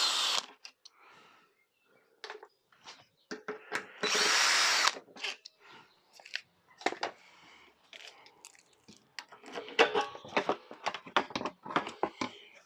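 Power drill whirring in short bursts while drilling out parts on a Yamaha FZR 600 motorcycle during de-restriction work, one longer sustained run among intermittent clicks and handling noises.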